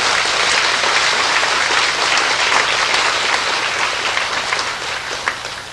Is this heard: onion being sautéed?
no